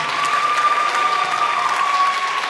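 An audience at a Catholic high school Christmas concert claps steadily for the choir director, a dense, sustained applause in a large room with no speech over it.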